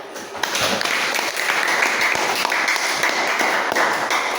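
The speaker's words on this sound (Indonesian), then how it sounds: "Oke, bisa diberi tepuk tangan cari." A classroom audience claps during a school lesson on adolescent reproductive health: dense, continuous clapping that starts abruptly after a brief quiet moment and holds steady at a fairly loud level.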